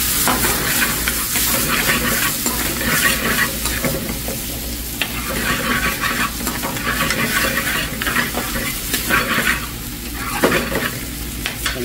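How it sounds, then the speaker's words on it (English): Onions frying and sizzling in a pan for a dhaba-style paneer bhurji, stirred steadily with a utensil, giving a continuous loud sizzle and scraping throughout with no talk. "So as you see, like onions are cooking here"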